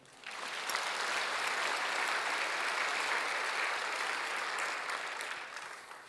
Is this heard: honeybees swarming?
no